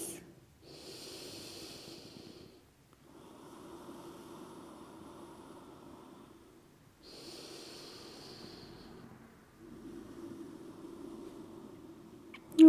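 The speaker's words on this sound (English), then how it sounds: "we're here for 3 more breaths." Slow, deep breathing during a gentle yoga flow, long soft inhales and exhales in an even rhythm of about three breaths, close and quiet with nothing else heard.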